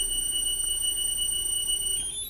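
A JJRC X12-style drone controller sounds its startup alarm, a loud, steady high-pitched electronic tone held for about two seconds with a slight shift near the end, and no voices.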